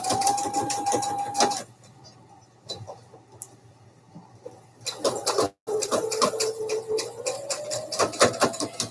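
A sewing machine stitches red thread across an advent calendar at 3.5 stitch length, its steady whirring running in several bursts with short pauses between passes, close by and fairly loud.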